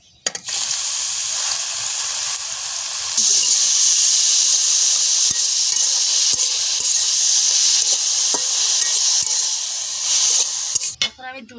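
Ghee sizzles hard in a wok for a cauliflower milk pudding, a loud, continuous hiss that swells after a few seconds and cuts off abruptly near the end.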